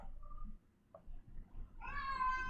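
A cat meows outdoors at a distance, a brief faint call early on followed by a louder, drawn-out harmonic meow near the end over low background noise.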